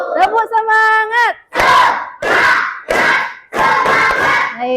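A classroom of students chants the rhythmic clapping cheer "tepuk semangat", loud and close, with bursts of group shouting and hand claps in a repeated pattern.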